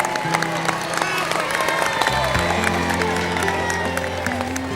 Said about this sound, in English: For the champion, a silver trophy and a well-earned round of applause.